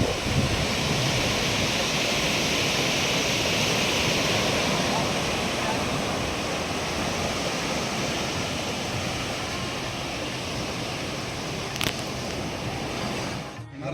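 Steady sea waves washing onto the beach at Ganpatipule, a continuous broadband roar of surf with some wind, close and loud throughout, with no voices.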